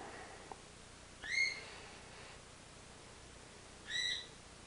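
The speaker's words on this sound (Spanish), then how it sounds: "Perdón que está chillando mi loro y me distrae." A pet parrot squawks twice indoors, two short, bright calls a few seconds apart, moderately loud over a steady hiss of room noise.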